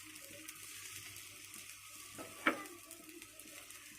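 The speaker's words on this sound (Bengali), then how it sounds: "আমি প্রথমে ফ্রাই করে তেলে ব্রাশ করে নিচ্ছি।" Hazara pitha fries quietly in hot oil, a soft steady sizzle with a single sharp clink of a utensil partway through.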